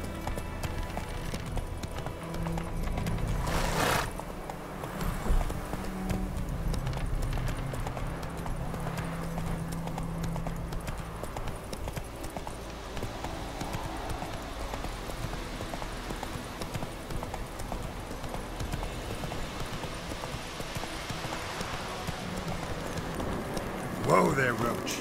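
Roach the horse gallops in The Witcher 3 video game, its hooves clip-clopping steadily at close range through a long run, while voices talk over the hoofbeats at times.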